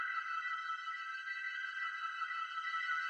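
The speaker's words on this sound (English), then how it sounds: "I'll just take the regular reverb and go ahead and crank it to 100." A sustained, fully washed-out Ableton reverb tail set to 100% wet, a bright smeared tone hanging steadily with no dry attack, even and moderately quiet throughout.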